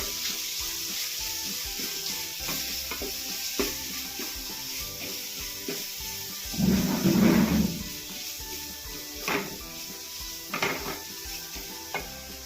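Crushed ginger and garlic sizzle steadily in a hot pan while being stirred for a beef curry, with clinks of a utensil against the pan and a louder burst of frying partway through.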